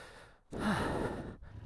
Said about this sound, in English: Enjoy some heavy breathing into the mic.